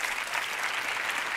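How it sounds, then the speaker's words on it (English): A magic show audience applauds with dense, even clapping, a steady wash of hands throughout the short moment. "give her a big round of applause"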